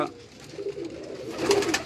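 Large, big-headed Ferozpuri Amritsari cross pigeons on a Karachi rooftop give low, rolling coos that grow louder toward the end, with faint background noise and brief voices.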